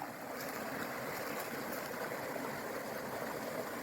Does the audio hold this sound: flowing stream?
yes